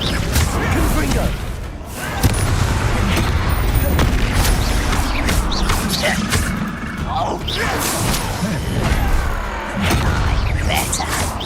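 Blasting spells in the Hogwarts Legacy video game go off as repeated loud booms and crashes over a dense, rumbling bed of game effects, with voices calling out spell names in between.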